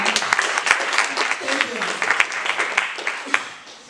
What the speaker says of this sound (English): This deserves a round of applause.